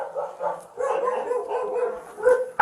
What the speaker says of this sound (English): I'm gonna put my dog in the bathroom,